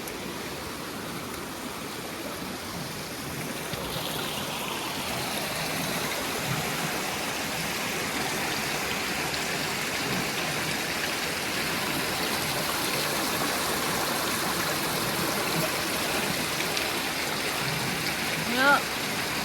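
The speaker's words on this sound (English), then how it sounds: "A little waterfall." A small waterfall on a stream running unusually high after heavy rain and hail, rushing steadily and loudly up close as a continuous broadband roar with no break.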